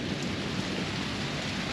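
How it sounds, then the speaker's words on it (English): Rain falls during a Friday morning thunderstorm, a faint, steady wash of drops with a low rumbling undertone and no voices. "It's the rain, guys."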